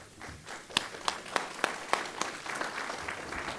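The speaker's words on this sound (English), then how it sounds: "Applaud all these kids for coming up here" A school board meeting audience gives scattered, sparse applause for a group of kids, a handful of distinct claps rising out of low room murmur.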